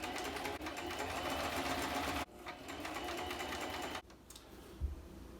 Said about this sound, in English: I'm going to go ahead and sew up this first side seam.